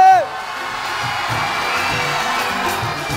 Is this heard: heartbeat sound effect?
no